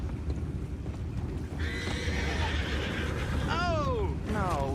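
Horses neigh in the western video game Red Dead Redemption 2, with two shrill descending whinnies near the end over rumbling ambience and faint hoof clops, while people talk.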